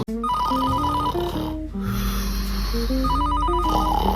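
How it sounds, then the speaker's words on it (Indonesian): A telephone rings with a repeating electronic melody, loud and close, two ringing bursts separated by a brief pause. "Ini telepon tuh."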